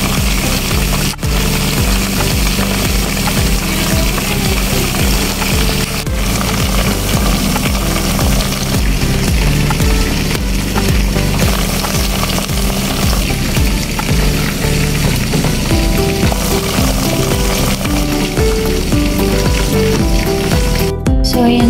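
Pieces of chicken fry in a pan with a loud, continuous sizzle that holds steady throughout, and spoken voices can be heard over it at times.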